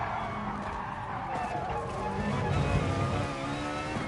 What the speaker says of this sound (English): The brakes must have locked up.